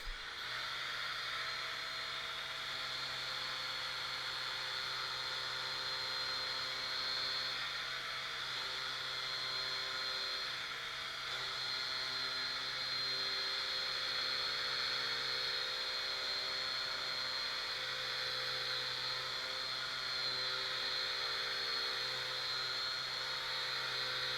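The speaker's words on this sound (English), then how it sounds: "Let's get on to some sanding then" A Bosch GET 55-125 direct-drive random orbital sander works treated pine from a truss, giving a continuous high whine over a steady low motor hum that shifts pitch slightly at times, with no talk.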